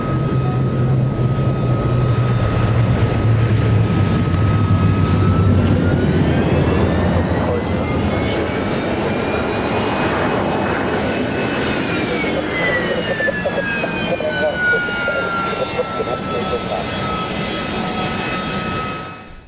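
Lockheed Constellation four-engine propeller airliner roaring past at an airshow, a loud, sustained drone whose engine pitch rises and then falls as it passes, alone without talk.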